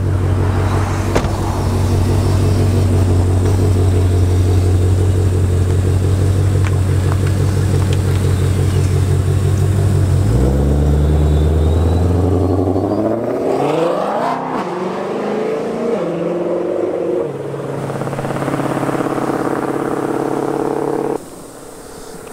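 A Ford Shelby GT500 rumbles loudly and close, holding a deep idle before revving and accelerating away, then its engine note fades and shifts into a lighter drone.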